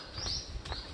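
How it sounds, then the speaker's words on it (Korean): Faint bird chirps ring out twice over soft outdoor ambience along a forest boardwalk trail at Soesokkak, Jeju Island, brief and distant. "새소리 너무 이쁘다"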